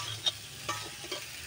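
Spice paste with pabda fish fries in a pan with a constant sizzle, punctuated by a few soft scraping strokes of a spatula as the mixture is stirred.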